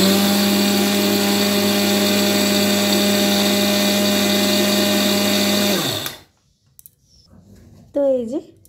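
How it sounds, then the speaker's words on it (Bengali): Mixer grinder grinding dry rice into powder in a village kitchen, a loud steady motor whine that runs for about six seconds before stopping abruptly, followed by a brief voice. "প্রথমে চালটাকে আমি গুঁড়ো করে নেব, জল ছাড়াই কিন্তু প্রথমে আমি গুঁড়ো করে নেব"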